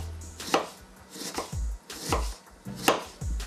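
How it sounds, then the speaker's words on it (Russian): A knife finely dices an onion into small cubes on a board, giving crisp, close cutting strokes with dull thuds, in an irregular rhythm of about one or two cuts per second. "один лук я нарежу кубиком, очень мелко"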